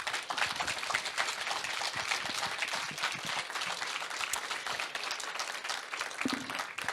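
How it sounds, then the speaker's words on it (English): A crowd applauds after a book presentation at the Vilnius Book Fair, a long dense wash of many hands clapping steadily without a break for several seconds, fairly close. "we're going to give you a very, very big round of applause"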